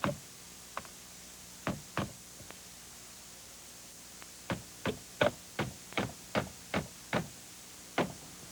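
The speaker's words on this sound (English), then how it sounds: "So start nailing." Nails hammered into lightweight vent moulding: sharp, close knocks, a few scattered ones early, then a quick, regular run of about a dozen evenly spaced blows.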